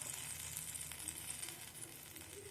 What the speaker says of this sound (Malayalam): അതിന് വേണ്ടി പൊരിക്കാനുള്ള എണ്ണ ഒഴിക്കുകയാണ്